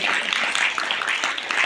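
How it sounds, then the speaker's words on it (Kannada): An audience at a school recitation competition gives loud, dense applause, a continuous close burst of clapping with no pause. "ಸುರಸಿನಿಯರಿಗೆ ಎಲ್ಲರೂ ಜೋರಾಗಿ ಚಪ್ಪಾಳೆ ಹೇಳಬೇಕು"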